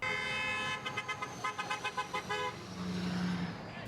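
Car horns toot repeatedly outside a Welch's grape juice plant in Grandview where about 40 workers hold a picket line, a burst of short rhythmic honks mid-clip with steady traffic noise and a lower sustained horn tone near the end.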